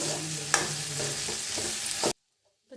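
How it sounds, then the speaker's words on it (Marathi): Red chilli powder, coriander powder and homemade masala dry-roasting in a pan for a potato curry, with a steady close sizzle and scraping stirs that cut off abruptly near the end. "छान असं भाजून घेऊया सगळा मसाला"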